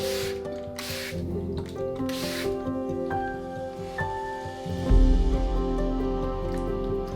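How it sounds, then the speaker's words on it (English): A few quick hissing bursts from a spray bottle spraying water near the start, followed by a steady tonal hum and a low rumble that swells toward the end. "use the spray bottle here to just spray"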